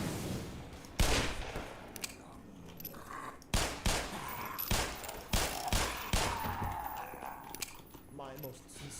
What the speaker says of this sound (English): I'm wasting magnum ammo because I'm going to go back and grab that magnum.